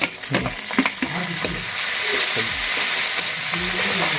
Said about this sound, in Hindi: टमाटर पहले थोड़ा हल्का भून चाहिए ना